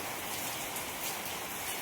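Steady rainfall pattering on a surface, a dense, even hiss of drops throughout with no voices.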